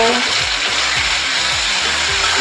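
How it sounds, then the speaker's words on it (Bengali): Ginger, dried chili and garlic paste sautéing in a pan with salt and turmeric, a steady close sizzle and hiss running throughout with faint low clatter underneath. "আদা, শুকনো লঙ্কা আর রসুন পেস্টটা দিয়ে দিলাম। ভালো করে কষে নেব।"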